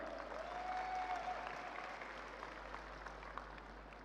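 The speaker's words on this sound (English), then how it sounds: "Applause for our amazing dancers." An audience applauds dancers at a global event in Da Nang, Vietnam, a sustained wash of many hands clapping that holds steady and then eases slightly, moderately distant.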